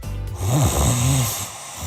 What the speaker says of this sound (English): there are many problems that can keep you up at night, like snoring